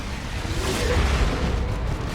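Manticore artillery fires in the video game Dawn of War 2, heard as a broad rumbling boom that swells and lingers as a dense, noisy roar.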